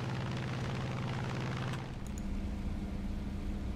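Bomb drops from a P-47M fighter in War Thunder, a deep rumbling eruption that swells then fades into steady engine drone, with no voices.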